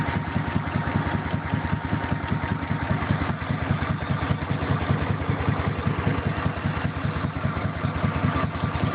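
A Harley-Davidson police motorcycle engine idles on its own, close up, with a steady, loping low-frequency pulse and constant mechanical vibration, with no voices over it.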